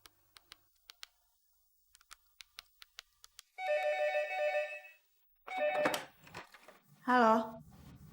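After a series of sharp clicks like phone buttons being pressed, a telephone rings twice in sustained electronic bursts, followed by a voice speaking.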